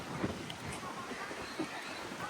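Strong wind buffets the microphone in a public park, a constant broadband rumble and roar that fills the whole stretch with a few stronger gusts, with faint voices underneath.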